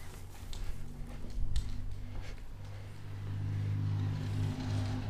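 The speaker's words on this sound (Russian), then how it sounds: "Машина проехала." A car drives past near an old church converted into workshops in the village of Nerl, a low engine hum that swells and grows steadier in the second half, heard over outdoor background noise.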